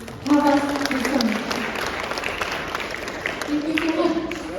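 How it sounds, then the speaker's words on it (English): Audience applause at a solar startup pitching showcase, a steady clapping wash over most of the clip with voices talking over it. "So please give a big round of applause"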